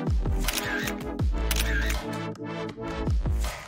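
Camera shutter clicks as selfies are snapped in a loud, sharp series of repeated mechanical clacks with a few quick bursts, set in an animated cartoon scene.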